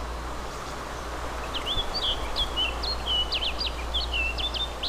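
Small birds chirp in quick, high, scattered bursts in the DayZ survival video game, set over a steady low ambient rumble and wind-like hiss.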